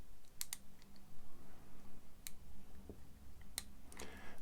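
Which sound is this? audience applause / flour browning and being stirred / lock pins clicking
lock pins clicking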